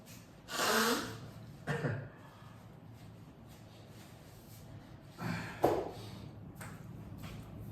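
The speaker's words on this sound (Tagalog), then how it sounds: "Sorry, suminga ako." Two loud, breathy nasal blasts, like someone blowing their nose, with a quiet pause between them and faint rustling around.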